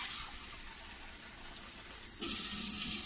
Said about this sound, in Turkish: Şimdi suyumuzu da kattık.